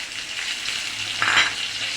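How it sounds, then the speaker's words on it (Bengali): Dried fish (shutki) fries in a pan with sweet potato, a soft continuous sizzle that swells briefly into a louder crackle midway, with no talking. "একটু ভালো করে ভেজে নেব।"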